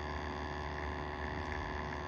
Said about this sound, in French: le ventilateur fonctionne à fond la caisse